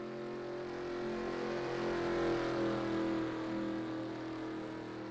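A race car pulls away from a pit stop on fresh tires during a South Point 400 race in a racing video game, its engine droning steadily and swelling slightly as it accelerates out. No talk is heard over it.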